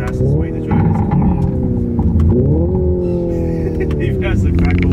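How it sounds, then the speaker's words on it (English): A Hyundai IONIQ 5 N electric car, set up for Pikes Peak, plays a simulated gasoline engine note through paddle-shifted gears: a loud, close droning tone that climbs and drops with each shift. "it actually mimics a gasoline engine car sound"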